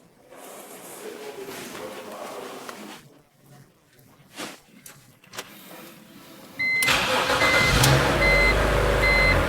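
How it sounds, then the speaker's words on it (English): A car engine is started after some quiet shuffling and clicks, the starter churning before the engine catches and settles into a loud steady idle with a few electronic beeps. "walk to the front to start the engine"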